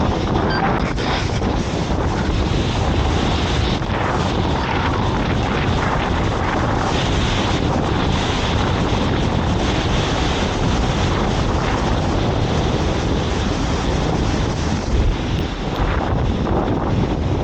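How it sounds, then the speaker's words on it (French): A steady, loud rush of falling water roars without pause, dense and broadband, like a powerful waterfall cascade close by in the Swiss Jura, with no voices over it. "je savais pas qu'il y avait des cascades pareilles"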